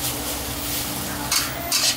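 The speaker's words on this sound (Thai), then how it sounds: "ผัดให้เข้ากันนะฮะ" Glass noodle filling for spring rolls is stir-fried in a pan, sizzling steadily up close while a utensil scrapes and stirs, with two brief louder scraping bursts near the end.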